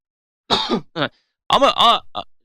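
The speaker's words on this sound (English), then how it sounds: "I got a cough." A person coughs and clears their throat several times in short bursts, close up, with brief pauses between.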